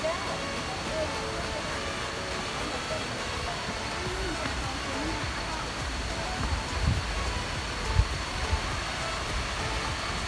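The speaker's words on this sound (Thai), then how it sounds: "แล้วก็น้ำไหลแรงมาก" Wachirathan waterfall at Doi Inthanon in April, water pouring and flowing strongly in a steady, dense broadband rush that fills the whole clip, with a couple of brief louder thuds near the end.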